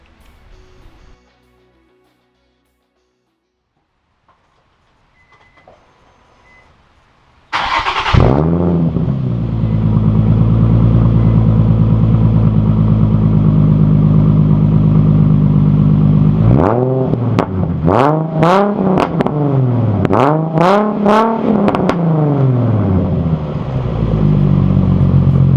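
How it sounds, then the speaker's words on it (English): Nissan Z33 car engine with a newly fitted aftermarket exhaust starts after a quiet stretch, settles into a loud, steady idle, then gives a series of sharp revs near the end. "as you can hear, got the exhaust on. Thing sounds absolutely amazing."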